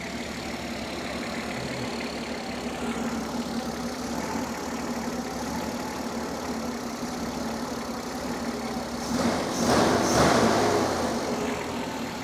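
A 1967 Mustang engine fitted with a Holley Sniper 1100 EFI idles with a steady, even rumble. A brief rise in revs comes near the end, and no one talks over it.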